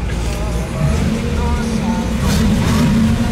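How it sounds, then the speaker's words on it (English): A 1967 Camaro RS engine rumbles steadily at close range with a deep exhaust note, swelling slightly as it revs a little higher partway through. "Cool exhaust sounds good. It's not obnoxious, but it sounds nice."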